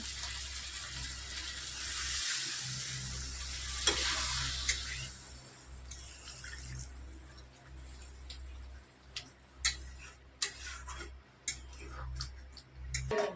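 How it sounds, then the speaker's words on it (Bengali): Water poured into a spice paste (masala) frying in a pan for raw jackfruit curry. A hissing sizzle fades into quiet, close bubbling, with sharp spoon taps and stirring ticks near the end and no talking. "এবার এর মধ্যে জল দিয়ে দেবো"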